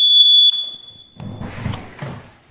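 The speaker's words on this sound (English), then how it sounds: "So when the doors go off, I'm open, the alarm goes off." The door alarm on a waterfront pool home sounds as a loud, piercing electronic tone for about half a second. It cuts off and is followed by a few soft clunks and rustles.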